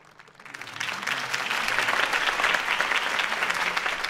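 Crowd applause erupts after Harvey Dent's campaign speech in Batman: The Telltale Series, starting thin and swelling within half a second into a steady, dense roar of clapping that holds to the end.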